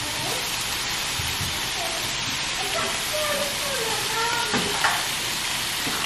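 Seasoned meat with peppers and onions sizzling in a pan, a steady close hiss of frying that runs throughout, with faint stirring scrapes.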